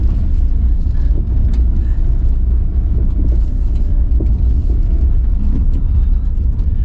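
A Suzuki Ignis Sport drives on a racing run, its engine producing a loud, steady low rumble that fills the whole stretch without pause.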